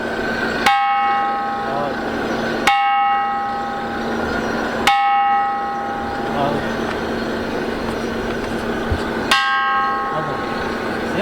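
Musical stones are struck, each strike ringing out like a temple bell with a sharp attack and a long, sustained metallic tone. Four strikes come at irregular intervals over a constant background hum.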